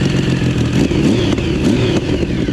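A 1050cc Yamaha Raptor quad engine revs hard and close, its deep throbbing roar rising and falling in quick bursts with a rattly mechanical edge, loud and continuous throughout.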